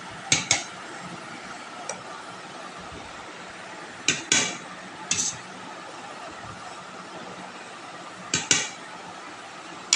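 Dishes and cutlery clink while rice is served for a home meal of hilsa in mustard sauce, a few sharp isolated clatters spaced several seconds apart over quiet room tone.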